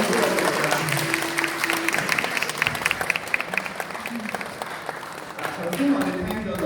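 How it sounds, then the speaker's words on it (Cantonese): Audience applause after a community orchestra's opera pieces at a Hong Kong Southern District concert: a steady wash of clapping over several seconds, with a voice speaking over it. "頭先嗰兩首音樂好唔好聽啊？ 俾掌聲佢哋好嘛？"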